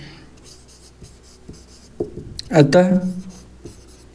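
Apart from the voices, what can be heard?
writing on a board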